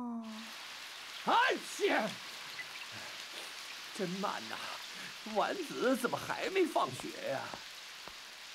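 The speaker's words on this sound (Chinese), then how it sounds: "外面还下着大雨呢。" Heavy rain in the animated series Chibi Maruko-chan, a steady hissing downpour running under the dialogue as characters speak throughout.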